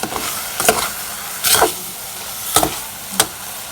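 Amaranth greens (phak khom) are stir-fried in a pan, giving a soft, close sizzle broken by several quick scraping stirs at irregular intervals.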